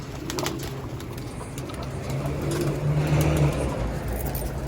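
Soft cooing of pigeons or doves outdoors, with steady traffic rumble and a passing car in the background.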